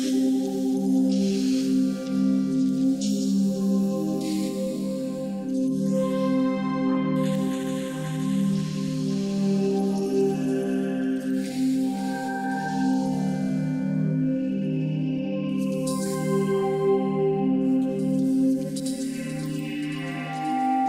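Phase Plant synthesizer preset playing a sustained, evolving chordal pad with layered harmonics and swelling texture throughout, loud and steady with no talking.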